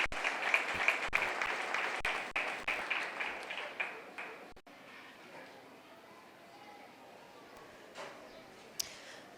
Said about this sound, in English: Let's give both exhibitors an excellent round of applause.